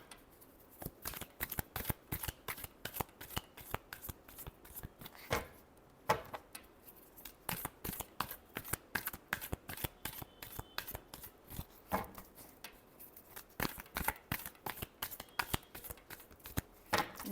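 Tarot cards being shuffled by hand, a long run of crisp, rapid riffling and slapping bursts in quick irregular rhythm, close and fairly loud, with no talking.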